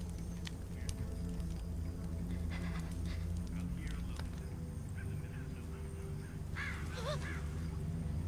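Crows in The Walking Dead Season 2 video game, several harsh caws scattered across the scene, with a louder cluster near the end, over a low steady game ambience.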